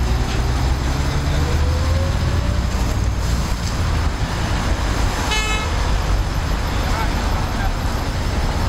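An old Kamaz truck idles and rumbles in city traffic with low engine drone and road noise, while a horn toots briefly midway and people speak over the scene.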